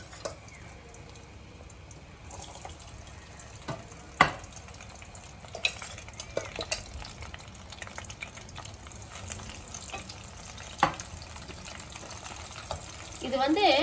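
Brinjal pieces deep-fry in moderately hot oil in a kadai, giving a faint, steady sizzle broken by a few sharp stirring clinks and knocks, with a louder bubbling rush near the end.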